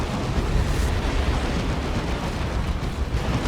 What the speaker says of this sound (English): Getting shots in with the Psi Cannon.